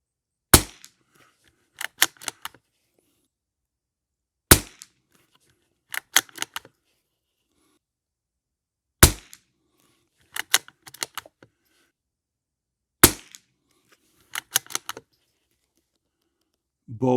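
Savage MKII TR rifle firing at a range target: four sharp, loud reports spaced about four seconds apart, each followed by a rapid clatter of bolt cycling and handling clicks.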